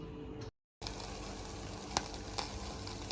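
Coconut and jaggery cook in a pan on a stove for sweet sugginunde, a soft steady sizzle with a few light scrapes, quiet and close, broken by a brief cut to silence near the start.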